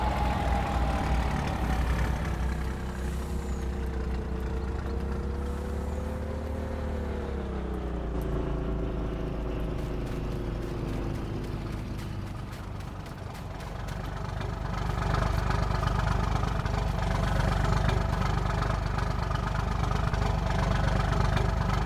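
Tractor and truck engines idle steadily in Farming Simulator 19, a continuous low rumble that shifts pitch slightly midway and then grows a little louder and rougher, with no talk over it.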